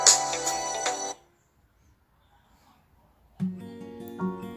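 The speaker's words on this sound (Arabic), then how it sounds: "منبه صوتي" A LEMFO LEM10 smartwatch alarm ringtone plays a bright electronic melody for about a second, falls silent, then resumes with a lower repeating tone pattern near the end, close and clear with no talking.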